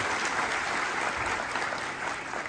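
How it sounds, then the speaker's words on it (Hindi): Loud, continuous clapping fills a college hall in Patan during a speaking event, a thick, even roar of many hands with no talk over it. "पूरा हॉल गूंजना चाहिए। जोरदार तालियां पड़े आपको तमाम के लिए।"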